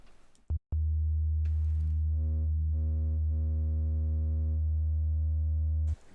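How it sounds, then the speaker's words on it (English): Synthesizer sine wave oscillator tone, a steady loud low pitched hum with a slightly buzzy, harmonic edge, holding for about five seconds between brief bursts of noise and clicks at the start and end. "So let's select the sine wave."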